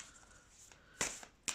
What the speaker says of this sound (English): But you hear this shuffling